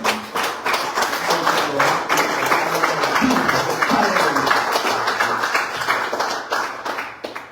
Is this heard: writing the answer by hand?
no